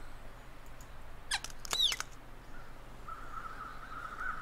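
Crows caw in the snowy wilderness of the survival video game The Long Dark, a few short harsh calls in quick succession near the middle, then a faint thin tone over quiet ambient noise.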